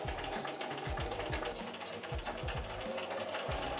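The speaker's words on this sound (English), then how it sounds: "I then began sewing the bodice of the dress together." A sewing machine stitches an 18th century dress bodice in quick rhythmic bursts, its repeated mechanical thumps and whir fairly close and steady, with no voices.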